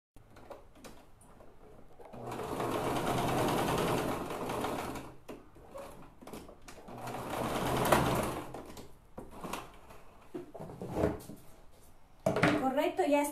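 A sewing machine stitches a small fabric piece in two sustained whirring runs separated by a pause, with someone speaking around and over it and light handling clicks.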